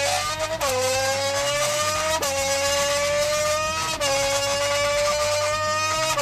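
A racing car engine in the Roblox game Race Clicker revs continuously at high pitch, its tone rising and falling in repeated gear-like sweeps, loud and steady throughout with no talk.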